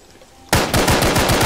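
Gunfire in the military video game Arma 3: a loud burst of automatic fire starts suddenly after a moment of quiet and keeps going as rapid, even shots.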